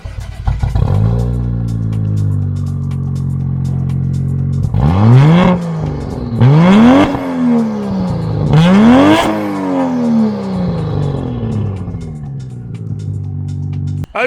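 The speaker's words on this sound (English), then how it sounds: "Let's get the JDM car going." A Toyota Soarer with a 1JZ engine idles with a steady burble, then is revved hard three times in quick succession, each blip rising and falling back, before settling to idle again; loud and close, with no talking.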